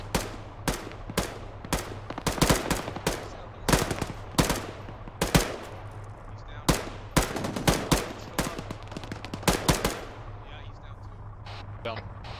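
Gunfire rings out during a realism-unit military operation in a video game: repeated loud bursts and single shots crack at irregular intervals, each with a sharp attack and a ringing tail, over a low engine hum and occasional talk.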